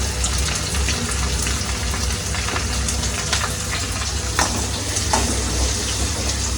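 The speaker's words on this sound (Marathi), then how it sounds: "आपण आता त्याच्यात कांदा ॲड करूया." Finely chopped onions frying in a pan for prawn sukka, a loud continuous crackling sizzle with occasional stirring scrapes.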